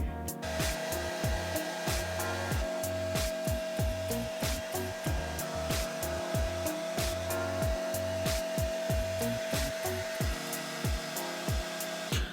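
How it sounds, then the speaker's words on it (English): A blow dryer drying and stretching hair whirs loudly and steadily up close, its airflow pulsing in a quick regular rhythm throughout, with no voices. "that's what happens when you take a blow dryer to your hair"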